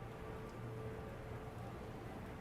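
Non-stop rain in the video game Monster Hunter Wilds falls as a quiet, dense, even patter with a soft low rumble beneath, steady and continuous throughout.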